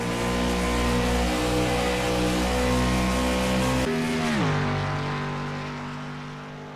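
A NASCAR stock car at Indianapolis roars at sustained high revs, then the driver lifts off the throttle and the engine note drops sharply and fades as the car passes through the short chute.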